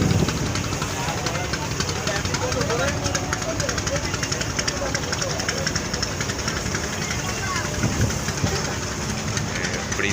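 A large passenger launch near Dhaka runs its engine with a continuous loud knocking rumble, a steady mechanical chug heard up close under a busy background.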